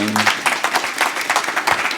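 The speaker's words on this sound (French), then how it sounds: "Vous pouvez les applaudir." Brief applause from an audience at a cybersecurity forum, with clapping mixed under speech that carries on over it.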